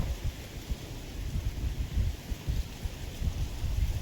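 Gusting wind buffets the microphone with a continuous low rumble, swelling and dipping irregularly throughout.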